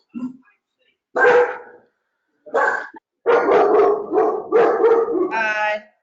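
A dog barks in several loud, close bursts during a video meeting, the yaps interleaved with gaps of silence and overlapping snatches of speech.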